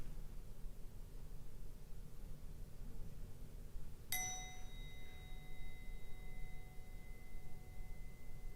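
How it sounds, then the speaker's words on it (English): A single meditation bell is struck once midway, its clear ringing tone lingering and slowly fading over a steady low background hiss. "I'll wait until the sound of that bell drifts off before I begin"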